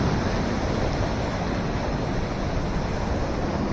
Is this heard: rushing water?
yes